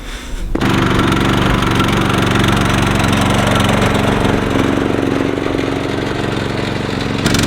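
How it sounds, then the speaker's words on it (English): A loud tractor engine starts up abruptly and settles into a steady, close chugging roar that runs without pause. "I gotta go get my super high powered tractor."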